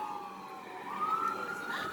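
Police and ambulance sirens wail at an accident scene, a rising tone heard moderately close, with traffic rumble underneath.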